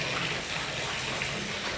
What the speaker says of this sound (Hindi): तो मीठा पानी चल रहा है यहाँ